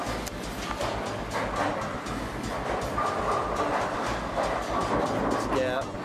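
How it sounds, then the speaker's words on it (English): A Brunswick A2 bowling pinsetter cycling, with loud continuous mechanical rumbling and rhythmic clattering of the machinery, close up and alone with no talk. "Step 1 is cycle the Pinsetter to 0 degrees."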